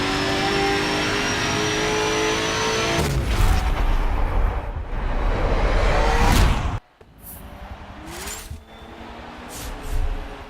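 A 2015 McLaren P1 GTR race car engine in Forza Motorsport 7 roars loudly, revving and droning, cuts off abruptly, then rises again with further engine noise and a few booming hits.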